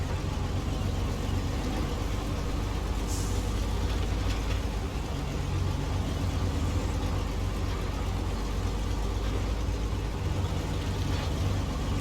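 A truck engine from the video game Snowrunner runs steadily, a continuous mid-pitched rumble with slight variations and faint background noise.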